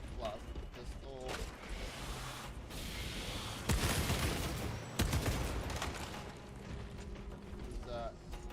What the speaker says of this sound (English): we're gonna blast the pistol